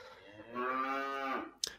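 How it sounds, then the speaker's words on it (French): A cow gives one long, loud, close moo, a drawn-out bellow in a French tourism advertisement for Franche-Comté, ending with a short sharp click. "La vache."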